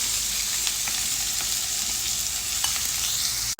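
Chopped onions fry with whole spices in a pan, a close continuous sizzle with light stirring scrapes, steady in level until a brief clunk near the end.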